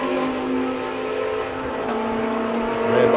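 A McLaren MP4 GT race car drives at a circuit during a South African GT race, its engine droning steadily with rising pitch, heard under continuous commentary.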